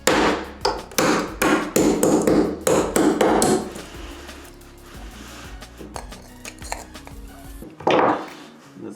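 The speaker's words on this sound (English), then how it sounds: "So first we need to make a hole for the cable, which should be right in the middle." Small pliers breaking out the pre-cut cable hole in a pull cord switch housing, a run of sharp close clicks and cracks on plastic, then quieter fiddling and a final loud snap.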